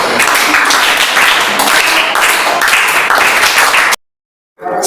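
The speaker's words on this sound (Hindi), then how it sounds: "बताइए, ठोकिए ताली।" Students in a coaching class clap together in a dense, sustained round of applause that fills the first four seconds, then stops abruptly before a faint sound returns at the end.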